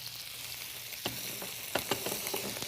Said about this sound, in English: I'm going to add my onions. With a little bit of oil, teaspoon or so.